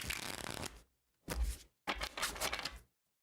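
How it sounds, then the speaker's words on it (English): Tarot cards being shuffled by hand, three quick bursts of riffling and flicking close up, separated by brief pauses. "One more shuffle."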